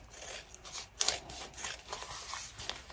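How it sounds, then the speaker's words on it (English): Scissors snip through fabric to trim the excess zipper on an in-the-hoop zipper bag, giving a quick series of close, crisp cuts with a sharper burst partway through and no talking. "Now we're cutting off our excess zipper right there."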